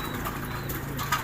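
German Beauty pigeons are fed in a loft, with a dense, close wash of flapping, fluttering and low cooing that continues without a break over steady background noise.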